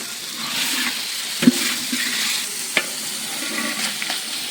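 Steady crackling sizzle of about five kilos of mutton frying over a wood-fired stove at a village fair, with a couple of sharp clinks from stirring; no voices.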